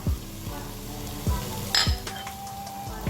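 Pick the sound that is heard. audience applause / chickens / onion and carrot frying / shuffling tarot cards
onion and carrot frying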